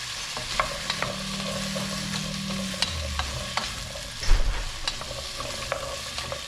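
Vegetables stir-fried in a pan for a Thai potato soup, a steady sizzle with repeated scraping taps from a utensil and a low hum, no voices.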